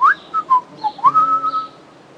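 A person whistles a series of short, bright rising and falling notes, chirpy and close, like an animal call imitation.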